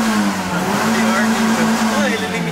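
A Fiat Uno fitted with an Audi R8 V10 engine runs at a steady, close, loud idle, holding an even low drone with no clear revs while people talk over it.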